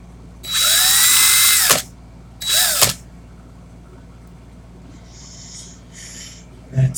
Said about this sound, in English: Put the drill in the forward motion.